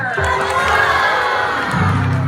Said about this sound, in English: Let's give us all a royal round of applause for Princess Rapunzel!